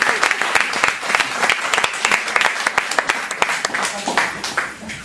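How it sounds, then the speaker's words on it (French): A crowd at a benefit concert for a homeless people's collective claps loudly, sharp separate hand claps densely overlapping in uneven rhythm, with voices mixed in and the clapping thinning toward the end. "Vous pouvez vous applaudir"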